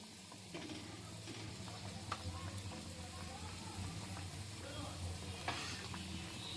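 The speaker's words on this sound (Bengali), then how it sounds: "এরকম করে ধরে আর তেলের মধ্যে দিয়ে দিচ্ছি" Potato-stuffed flour snacks frying in hot oil over a low gas flame, a steady close crackling sizzle with a few sharp pops, and a voice talking faintly underneath.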